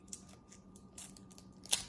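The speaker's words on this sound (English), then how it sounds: "So let's open it with the scissors because I'm lazy." Scissors cut into a Meivel Turrón Viena snack package, making faint, sparse crinkly snips and clicks, with one sharper cut near the end, in a quiet room.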